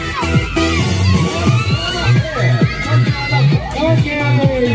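People shout and whoop at a village festival for the Virgen del Carmen in Puente del Carmen, loud and close, with overlapping voices and bursts of cheering throughout.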